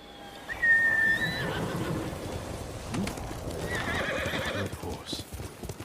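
Ghost of Tsushima horse gives a loud whinny, then its hooves clip-clop steadily over a bed of outdoor game ambience.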